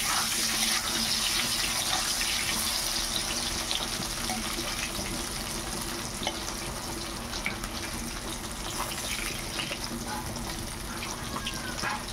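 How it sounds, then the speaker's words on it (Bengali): Potatoes fry in hot oil previously used for frying fish, giving a continuous, dense, close sizzle that holds steady from start to finish. "মাছ ভাজার তেলে আলু আর পটলগুলো ভেজে নেব।"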